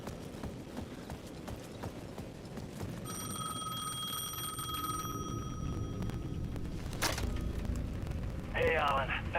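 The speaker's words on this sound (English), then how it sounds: "The payphone at the edge of the plaza was ringing again." A payphone rings in the video game Alan Wake 2, a steady bell-like tone lasting a few seconds midway, set against a constant low ambient rumble and clattering noise.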